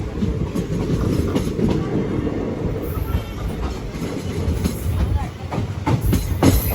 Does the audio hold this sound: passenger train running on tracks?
yes